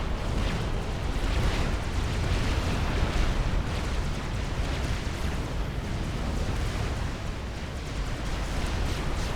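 Mobile missile explosions in Supreme Commander Forged Alliance, a dense, continuous roar of overlapping blasts and low rumbling battle noise at steady loudness throughout, with no distinct pauses.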